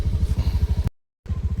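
Motorcycle engine chugging in a steady rapid pulse on a ride toward a remote village in Cianjur, loud and near, cutting out abruptly for a moment before resuming.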